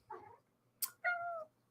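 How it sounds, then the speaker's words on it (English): A pet cat meows indoors, a short muffled call followed by a sharp click and then a clearer drawn-out meow, close and fairly quiet against a quiet room. "You can probably hear my cat in the background."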